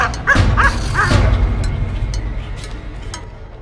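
A customs sniffer dog barking and yipping close by, a quick cluster of three or four sharp barks at the start followed by fainter whimpering noises as the sound fades.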